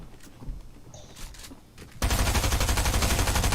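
SMG gunfire in Fortnite Chapter 3 breaks out halfway through after quieter game sounds, becoming a loud, rapid, unbroken burst of shots that continues to the end.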